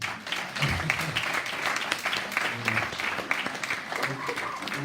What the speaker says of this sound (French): là vous pouvez applaudir pour moi.